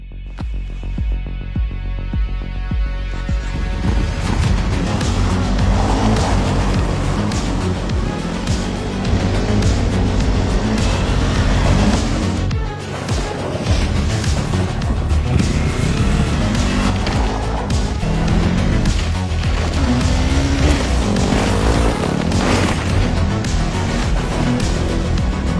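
Kawasaki KLE500 motorcycle being ridden, its engine throbbing steadily and loud with shifting revs, wind and road rumble throughout, no voices.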